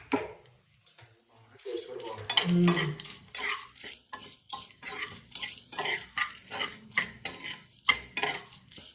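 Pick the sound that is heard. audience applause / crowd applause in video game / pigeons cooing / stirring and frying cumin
stirring and frying cumin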